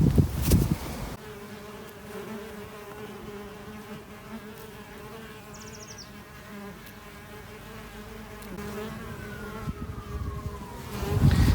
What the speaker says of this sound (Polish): Murarki się obudziły, ale ruch, ale ruch, to te pszczoły pożyteczne.